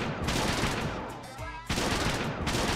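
Rapid gunfire from a video game crackles in dense bursts, with a short lull partway through before the shooting resumes at full intensity.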